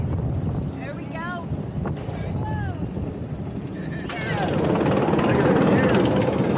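Riding the Great White roller coaster at SeaWorld San Antonio brings a rushing roar of wind and track rumble that swells louder toward the end, with rider voices and squeals cutting through.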